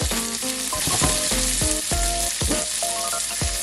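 Prawns sizzle and fry loudly in hot olive oil in a pan for Portuguese garlic shrimp, a steady dense crackle throughout with repeated clanks of a utensil stirring and pans knocking, no voices.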